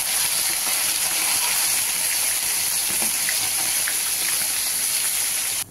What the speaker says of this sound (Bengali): এবার তেল গরম হয়ে গেছে, আস্তে আস্তে মাছগুলো দিয়ে দিচ্ছি, অল্প অল্প করে ভেজে নেবো এইভাবে।